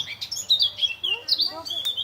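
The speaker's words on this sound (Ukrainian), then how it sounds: "А це ще соловейка послухаємо." A nightingale sings outdoors on an April path, close and clear, with a quick run of bright chirps, whistles and trills in lively bursts, no talk over it.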